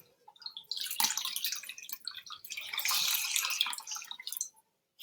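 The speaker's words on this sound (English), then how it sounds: "I'm doing this very carefully so I don't chuck water all over my computer keyboard" Water splashes and trickles in a small basin near a computer keyboard during an at-home mini peel skin treatment, a steady close wet sloshing that runs for several seconds before stopping abruptly.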